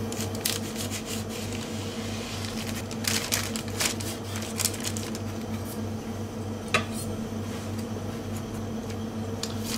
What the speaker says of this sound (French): Alors on va couper la viennoise de la même taille